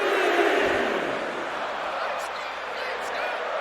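Arena crowd at a WrestleMania wrestling event making sustained noise and cheering, a loud continuous roar throughout with no distinct individual voices standing out.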